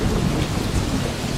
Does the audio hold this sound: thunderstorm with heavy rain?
yes